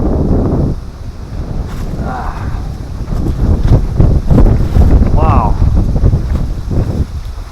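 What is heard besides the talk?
strong wind at lakeshore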